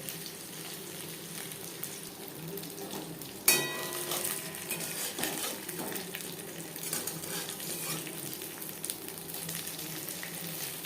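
Masala fish fries in a pan over a low flame with a steady soft sizzle and crackle, plus a sharp clatter of utensil on pan partway through and light stirring noises, no voices.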